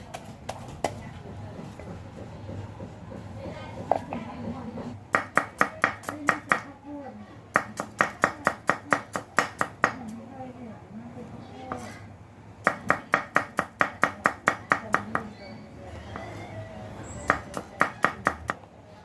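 A pestle pounds curry paste with shrimp paste, dried chili and salt in a mortar for a Thai sour papaya curry. It strikes in quick rhythmic bursts of sharp thuds separated by short pauses, close and distinct.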